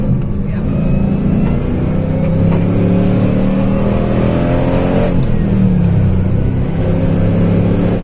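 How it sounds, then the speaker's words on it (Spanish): A Chevrolet Camaro engine revs hard and accelerates on a race circuit, a loud, continuous close-up roar whose pitch climbs repeatedly through each gear. "El Camaro hace así."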